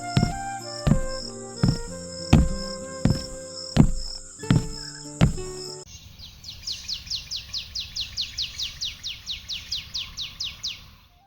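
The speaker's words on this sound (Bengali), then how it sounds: "এই তো সকালবেলার পাখির ডাক শোনা যাইতাছে।" Morning birds in a Bangla village cartoon: first a sequence of bright, evenly spaced chirps over a plucked musical backing, then a rapid run of about twenty sharp repeated tweets, close and clear, with no talk.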